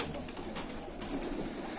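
A broad-tailed fighting pigeon coos softly up close, a few low, brief throaty calls over quiet background.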